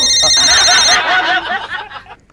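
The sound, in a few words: telephone ringing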